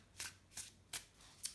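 Tarot cards from the Witch's Wisdom deck handled in quick sweeps, four soft papery swishes spaced roughly evenly, close and fairly quiet with no talk.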